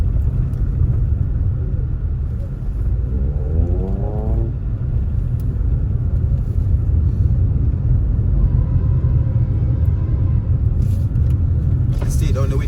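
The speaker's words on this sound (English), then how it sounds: "As you can see, there is a lot of traffic here." Heavy road traffic on Howard Cooke Boulevard, Montego Bay, Jamaica, drones loudly and continuously from inside a car, with engine rumble and passing vehicles and a brief voice heard under the noise.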